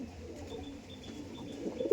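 Andhra pigeons coo softly and steadily close by at a breeder's loft, one low murmuring call running on with a louder burst near the end.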